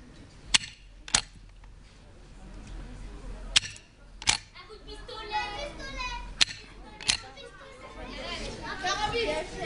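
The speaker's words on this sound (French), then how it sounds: "Imaginez un cow-boy en train de recharger son fusil." Foley of a cowboy reloading his rifle, made by working a metal lock: several sharp, close mechanical clicks and clacks spaced irregularly over quiet, with children's chatter and voices in the background toward the end.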